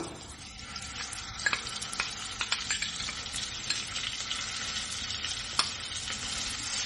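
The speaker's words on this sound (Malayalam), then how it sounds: "നന്നായിട്ടൊന്ന് ഇളക്കി കൊടുത്ത് എണ്ണയിൽ കിടന്ന് ചെറു അതായത് ലോ ഫ്ലെയിമിലിട്ട് നന്നായിട്ട് മൂപ്പിച്ചെടുക്കാം" A chili paste mix fries in oil over a low flame for a Kerala-style salmon fish curry, with a soft, continuous sizzle and repeated scraping taps of a spoon stirring the pan close by.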